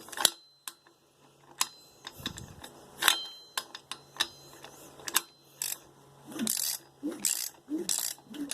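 A ratchet wrench fitted with a spark plug socket works on a 1976 Chevrolet Vega, giving sharp, close clicking bursts in irregular runs, with several quicker clusters of clicks near the end and no talk.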